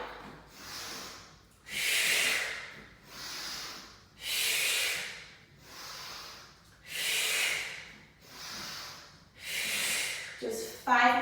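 Slow, heavy breaths during a Pilates mat exercise: about five loud, airy inhale-exhale cycles in a steady rhythm, close to the microphone, ending with a brief voiced sound.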